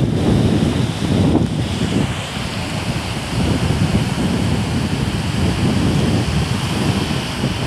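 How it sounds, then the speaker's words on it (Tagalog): Strong waves surging against a damaged farm dike, a continuous rushing wash of water with heavy wind buffeting the microphone throughout, no voices. "Kaya pala malakas yung alon."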